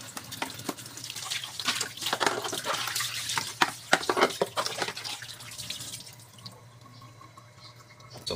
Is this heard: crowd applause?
no